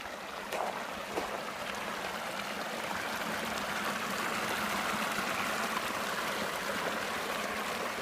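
A stream runs across a walking path at a shallow water crossing. Its steady, close rushing and trickling continues unbroken, with no talk.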